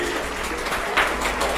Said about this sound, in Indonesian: Hebat sekali Bumiya, tepuk tangan dulu.